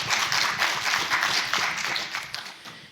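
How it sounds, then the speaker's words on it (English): An audience claps steadily for a host at a community talk, a dense, moderately loud patter of many hands that tapers slightly toward the end. "So I do want to give a hand of applause to Chris for hosting us."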